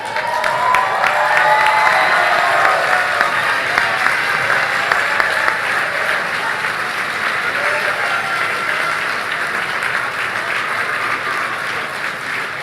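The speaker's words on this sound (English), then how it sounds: "face your families and give them a round of applause" Graduates at the 2017 Crummer Graduate School of Business commencement applaud their families, a large crowd clapping steadily and loudly throughout with some cheering and voices mixed in.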